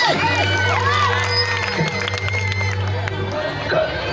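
Crowd cheering and shouting at a live comedy orchestra show in India, loud and continuous with clapping mixed into the babble and a steady hum underneath.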